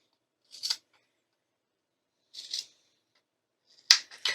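Scissors snip a short fabric thread leader in a sewing setting: three crisp, close cuts spaced out with quiet gaps between them, the last one sharper and doubled, with no voice.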